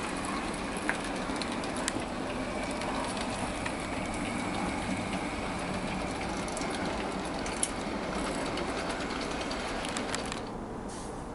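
An Oxford Rail Howitzer railgun model train runs steadily along its track through corners, a continuous rolling rumble and rattle of wheels at close range with no talking.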